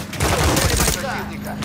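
Rapid machine gun fire during a firefight at a dam in Call of Duty Modern Warfare III, a loud, dense burst of shots over about a second that trails off into lingering echo and game noise.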